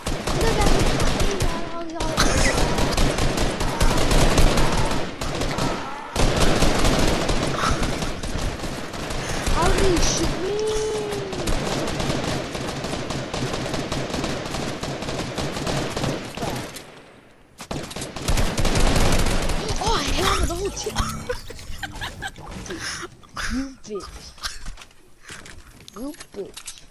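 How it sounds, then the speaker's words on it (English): Bots in an online shooter unleash sustained rapid gunfire, loud and dense bursts that pause briefly before resuming, with voices mixed in. "They are shooting at me!"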